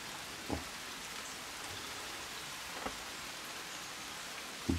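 Rain falls in a Sudeten mountain forest at dusk during a storm. It makes a soft, even hiss of drops, quiet and constant, broken by a few brief sharp knocks.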